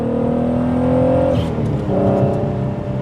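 A manual MK6 VW GTI with a 3.6L engine, AWD and a new exhaust pulls away from a green light, the engine note holding steady, dipping briefly at a shift, then climbing again, loud and close.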